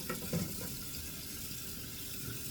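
Running tap water while washing up at a kitchen sink during cooking, a steady soft rush of water with faint clinks, heard alone without talking.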